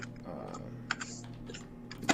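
Keys tap on a computer keyboard in scattered quick clusters rather than a steady run, moderately close over a low constant hum, ending in a louder burst of keystrokes.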